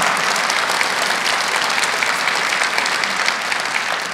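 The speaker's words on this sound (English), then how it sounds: "please give a round of applause to them for the years of service." Audience applause at a county government State of the County address, dense and steady clapping from a large crowd, loud and sustained without a break.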